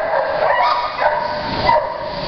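A shy, year-old lab and hound mix dog of about 40 pounds gives close, loud yipping barks mixed with whimpers in a short run, with no talking over it.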